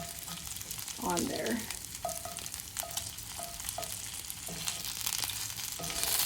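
Porterhouse steaks with the fat left on sizzle and fry steadily in a pan, a continuous close crackle with stirring and shifting of the meat, brief faint speech over it.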